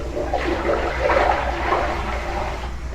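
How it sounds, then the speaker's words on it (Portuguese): Running tap water pours steadily into a kitchen sink as broccoli is rinsed under it, a loud continuous splashing rush with no talking. "Aqui eu tô lavando bem o brócolis, ó."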